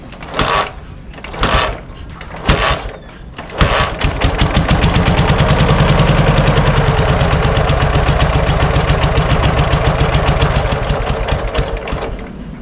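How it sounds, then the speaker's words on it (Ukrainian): A Dnepr MT11 motorcycle engine with PZ30 carburetors idles steadily up close, its low rumble running continuously after a few short bursts at the start; the engine tends to stall at idle. "мотоцикл в нас глохне, значить потрібно виставити стійкі обороти холості"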